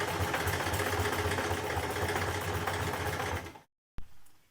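A domestic sewing machine runs in one continuous, close burst while stitching buttonholes on lounge trousers, then cuts out abruptly and restarts briefly after a short pause.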